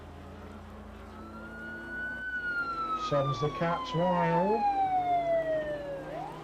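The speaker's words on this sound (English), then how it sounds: "I obviously have the police siren." A police siren sound effect wails in a long rising and falling sweep during a Silverstone racing club broadcast, moderately loud, with someone talking briefly over the middle of it.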